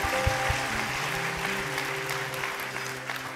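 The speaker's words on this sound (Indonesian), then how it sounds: "Berikan tepuk tangan kemuliaan bagi Tuhan." Congregation applause in a church service, steady broad clapping over sustained organ or keyboard notes, no speech over it.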